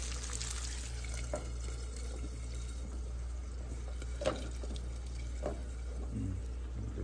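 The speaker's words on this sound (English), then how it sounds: "A little bit of water so it can steam that top" Water goes into a hot pan to steam the food, a soft, quiet splash and trickle with a few brief drips and clinks over a low kitchen hum.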